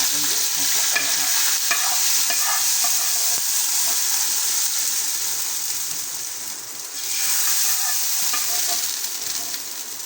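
Hot tadka tempering for aloo raita sizzles and fries in a pan on a stove, a steady loud hiss with scattered crackles and light stirring clicks, no talking.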